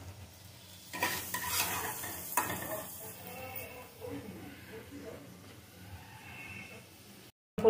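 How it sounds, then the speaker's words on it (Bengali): Shrimp frying in mustard oil in a pan, with a steady close sizzle and repeated utensil stirring and scraping against the metal through most of the stretch, ending in a brief pause. "চিংড়ি মাছগুলো ভাজা হয়ে গেছে, এবার নামিয়ে নেব।"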